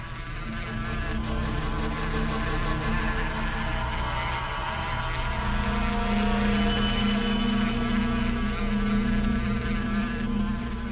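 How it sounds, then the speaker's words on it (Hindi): Bees swarm around a beehive, producing a dense, loud, steady buzzing drone that continues unbroken for the whole stretch, with no voices over it. "मधुमक्खी के छत्ते को छेड़ना"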